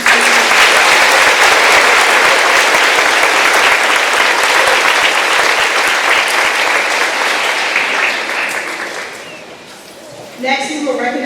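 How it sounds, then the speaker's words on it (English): A large audience at a middle school graduation ceremony breaks into loud, sustained applause that thins out near the end before a brief burst of renewed clapping. "One more round of applause."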